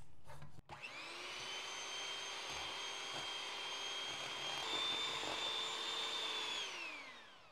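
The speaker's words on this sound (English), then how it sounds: "using a beater, we're just going to beat this up until it is whipped cream" An electric beater whips heavy cream in a bowl, a steady high motor whine that starts with a click, holds for several seconds with slight pitch shifts, then winds down.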